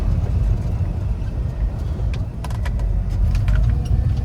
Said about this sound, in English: Very strong running truck.